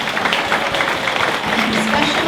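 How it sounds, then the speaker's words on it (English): Audience clapping at the opening ceremonies of a Halifax cedar festival, a loud, dense and even burst of applause from a seated crowd, brief and without talk. "Special applause for Bill."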